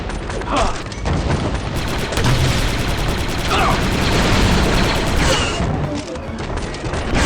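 Grenade blasts and rapid blaster gunfire from the Star Wars Republic Commando video game form a loud, dense, continuous barrage of bursts and booms, with faint voices mixed in.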